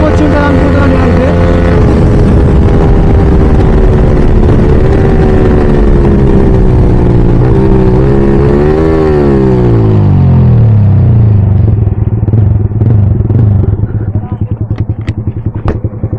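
A Yamaha R15 M with an Akrapovic exhaust pulls hard in a drag race, its engine note climbing and shifting through gears loud and close, then dropping into a lower rumble near the end.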